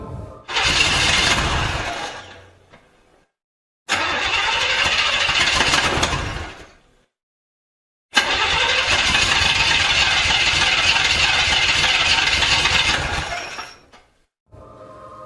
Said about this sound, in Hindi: उसकी सारी कोशिशें नाकाम रहीं और गाड़ी स्टार्ट नहीं हुई